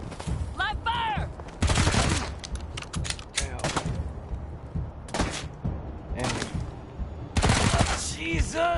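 In the video game Wasteland 3, bursts of gunfire and automatic weapon fusillades erupt repeatedly, loud and close, interleaved with shouted voices of characters.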